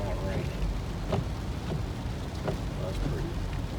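Steady soft rain hiss throughout while driving in Denali National Park, with occasional faint voices and small knocks in the background.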